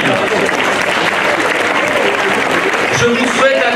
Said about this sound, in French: Ils méritent vos applaudissements.